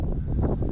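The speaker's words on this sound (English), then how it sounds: "It's proper gusting in here" A strong gust of wind buffets the microphone inside the stone Airlie Monument during Storm Arwen, a dense, loud, low roar that rumbles steadily through the whole short moment.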